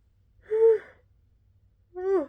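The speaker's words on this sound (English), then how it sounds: "And I keep wanting to yawn." A person yawns twice, two breathy drawn-out vocal exhalations separated by a pause, close and alone in a quiet room.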